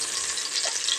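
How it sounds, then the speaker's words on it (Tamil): Curry leaves, ginger and garlic frying in a pan make a brief, steady hiss of sizzling oil, moderately loud and heard alone. "கருவேப்பிலை, இஞ்சி பூண்டு இது எல்லாமே போட்டு நல்லா ஃப்ரை பண்ணிக்கணும்"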